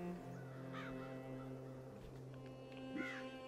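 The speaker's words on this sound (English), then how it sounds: "Did everybody get turned into a crow?" Crow caws in the video game Child of Light, two distinct harsh calls about two seconds apart over a steady bed of sustained game music.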